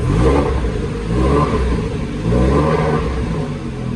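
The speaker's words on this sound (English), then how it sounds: "Do you want to start it up? So this will be in loud mode at the moment. Give it a rev." A Porsche 996 engine with its exhaust in loud mode revs repeatedly, giving loud, close, rising and falling blips over a deep, rumbling idle.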